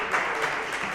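Audience applause from a live comedy podcast crowd in Atlanta, a short burst of clapping filling the room steadily for about a second.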